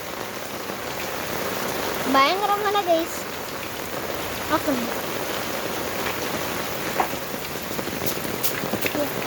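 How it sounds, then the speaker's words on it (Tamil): Heavy rain pours steadily in a residential colony in Dindigul district, a dense, continuous hiss of drops drumming on surfaces throughout, with a voice speaking briefly over it. "பயங்கரமாக மழை பெஞ்சிட்டு இருந்துச்சு கைஸ்"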